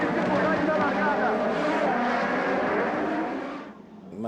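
Formula 1 race cars roar together at a Grand Prix start, a dense loud engine wail that holds steady before fading away near the end.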